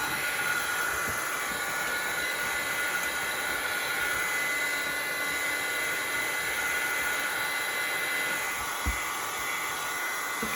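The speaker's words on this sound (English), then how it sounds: "we don't have to do this blow dryer, this heat gun anymore." A heat gun blows steadily on paper for Rolodex card crafting, giving a continuous airy roar and hiss at close range with a brief thump near the end.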